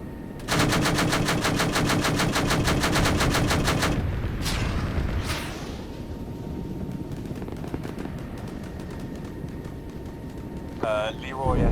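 Aircraft cannon fire in a military video game rips out in a long, loud, rapid burst, followed by scattered distant impacts and rumbling, with radio voices talking over it.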